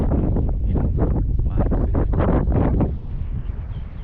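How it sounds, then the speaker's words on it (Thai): Strong wind buffets the microphone outdoors on open water during a fishing trip, roaring in heavy continuous gusts that ease slightly toward the end, with no voices heard. "ลมแรงมากเลยพี่น้อง"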